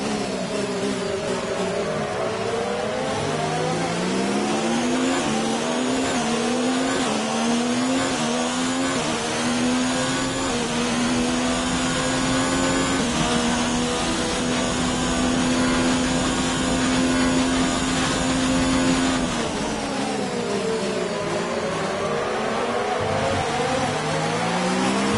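Formula 1 race car engine from the F1 19 video game, a loud continuous high-pitched whine that climbs and falls through upshifts and downshifts, revving steadily for the whole stretch with no talk.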